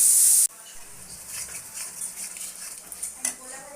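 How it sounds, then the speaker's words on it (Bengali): Spoon stirring spices and tomato paste in a pan for a chicken curry gives soft, steady scraping and clinking, fairly faint and close, after a short loud burst at the start. "টমেটো পেস্টটা এর মধ্যে দিয়ে দিলাম এটাকে ভালো করে নেড়ে চেড়ে"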